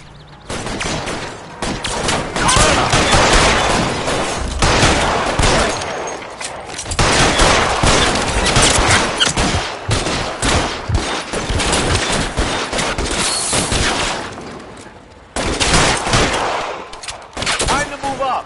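Sustained gunfire in the L.A. Noire video game, loud rapid bursts of shots crackling almost nonstop for many seconds, with only brief lulls between volleys.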